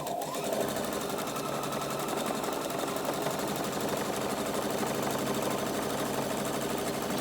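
A sewing machine stitches panels for a welding cap in one steady, fast, even whir that runs unbroken at close range, with no talking.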